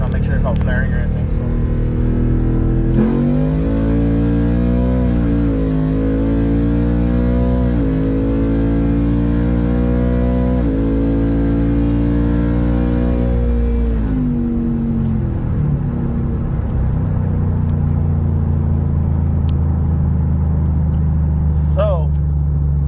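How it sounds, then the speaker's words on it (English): A 2020 Ford F150 pulls at wide open throttle, its engine rising in pitch through gears with strong harmonic droning and shifts, loud and close, then settling into a lower rumble. "get your wide open throttle pull"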